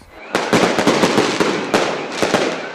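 Fireworks bursting on the night the Christmas lights are switched on in Manger Square, Bethlehem: a rapid string of loud, sharp cracks and bangs over a continuous crackling roar.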